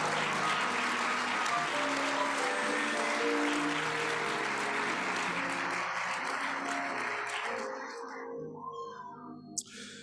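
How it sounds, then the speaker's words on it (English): Sustained applause from a church worship congregation, dense and steady, fading out near the end to near silence. "Now, as an act of worship and celebration, clap your hands unto the Lord."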